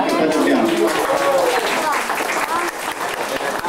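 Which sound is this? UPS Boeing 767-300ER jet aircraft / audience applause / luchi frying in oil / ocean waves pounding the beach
audience applause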